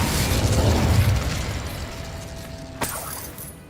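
The Incendio fire spell in Hogwarts Legacy bursts with a loud whooshing blast that fades into a rumbling tail, ending with a sharp crack near the end.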